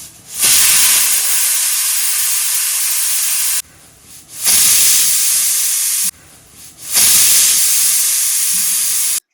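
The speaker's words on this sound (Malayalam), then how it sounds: "എന്നിട്ട് നമുക്ക് കുക്കർ അടച്ച് വെച്ചിട്ട് ഒരു 2-3 വിസിൽ കേട്ടോ" A home pressure cooker gives three loud, close steam whistles. Each is a long sustained hiss broken by short pauses, with the second and third bursts shorter than the first.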